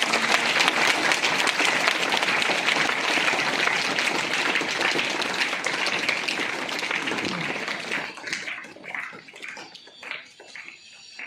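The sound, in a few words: applause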